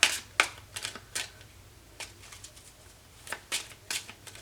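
Arcanum Tarot and oracle cards are shuffled by hand, several quick crisp riffles and snaps spaced irregularly, close and fairly quiet over a low steady background hum.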